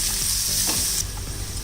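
Sliced onion sizzles and fries in a pan for a masala dosa potato filling, a loud, steady crackling hiss heard up close with no talking.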